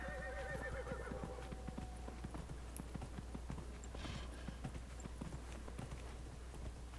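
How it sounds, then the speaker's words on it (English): A horse in the Dragon Age: Inquisition video game gives a high, wavering whinny, then its hooves clop steadily and close by in a walking rhythm, with no talking. "Call for a horse."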